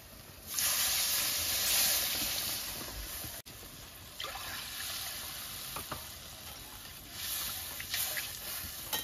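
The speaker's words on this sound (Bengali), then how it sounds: "এরপর আমি জল দিয়ে দেবো" Water poured into fried spice masala for a Bengali fish curry, bringing a soft hissing sizzle that rises, settles, then continues with light bubbling and occasional stirring clicks, fairly quiet and without speech.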